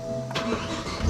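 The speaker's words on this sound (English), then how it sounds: "car still started up." A BMW E60 M5 engine, just flashed with an ECU tune, cranks briefly and catches, rising into a loud, close rumble at the end.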